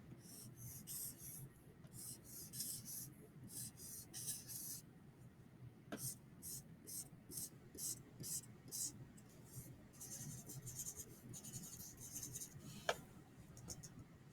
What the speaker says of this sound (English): I am going to draw the base 10 blocks, and you have to tell me what the number is.